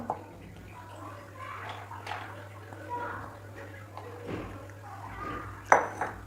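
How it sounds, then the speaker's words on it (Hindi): Boiled moong and chana dal go into a large pot with soft wet slops and scattered clinks of utensils against metal, faint and close, ending in a sharper clang over a low steady hum. "ये हम एक बड़े बर्तन में डाल देंगे।"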